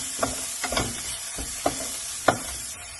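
Fresh corn sautéed in a pan for a vegetable omelette, a steady sizzle punctuated by several sharp utensil taps and scrapes against the pan.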